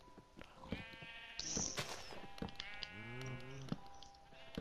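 Sheep in a pen in the video game Minecraft give a wavering bleat, joined by short clicks and other game effects around it.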